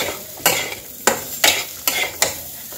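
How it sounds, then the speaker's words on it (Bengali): Spices, Gobindobhog rice and potatoes sauté in a pan for a vegetarian cabbage dish, with five sharp, evenly spaced scrapes of a spatula over a soft sizzle, close and loud. "মশলাটা আর গোবিন্দভোগ চাল আর আলুর সাথে কষে নেব।"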